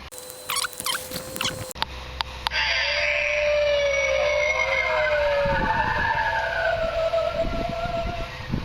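Electronic scary sound effect from a 12 ft inflatable Halloween ghost with headstone, a warbling, gliding tone after a few clicks, moderately loud and continuous with no talk.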